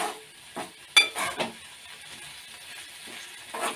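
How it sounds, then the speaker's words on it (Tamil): Tomatoes sauté in a pan for tomato chutney, a faint, low sizzle broken by a handful of scraping spoon strokes and light metal clinks, close by and without talk. "இப்போ பார்த்திங்கன்னா நமக்கு தக்காளி நல்லா வதங்கிட்டு இந்த அளவுக்கு தக்காளி வதங்கணும்"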